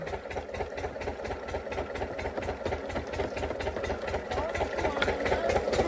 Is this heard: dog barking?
no